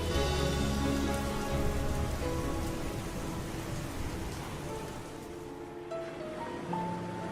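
Steady rain pours down in a dense, continuous hiss with a low rumbling undertone, loud and close throughout, with no voices.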